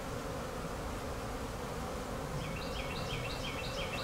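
Honeybees hum in a dense, steady drone around a packed hive, close and continuous, with faint higher chirps from a bird or other creature joining in partway through.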